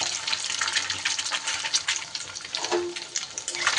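Cut pieces of egg white fry in very hot oil, giving a steady, bright sizzle and crackle with occasional bursts and stirring noises throughout.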